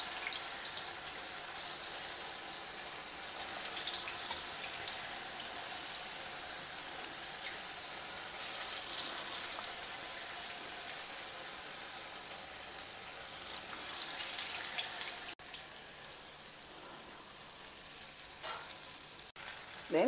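Balls of vada batter fry in hot oil for thayir vadai, a soft, steady sizzle hissing continuously at low volume, with a few faint clinks near the end.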